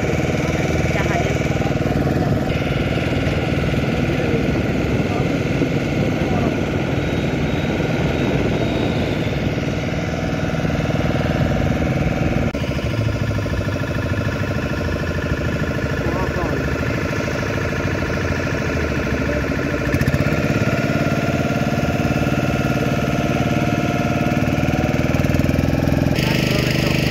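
Fishing trawler engines chug and idle at Parkhi beach in Baleswar, Odisha, a loud, steady mechanical drone that carries on throughout, with a shift in tone partway through and voices talking underneath.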